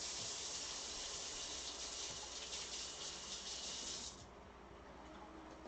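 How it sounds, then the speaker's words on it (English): Food rinsed under a running kitchen tap, a steady soft hiss of flowing water that stops after about four seconds, leaving quiet room tone. "I'm just going to rinse that one under the tap"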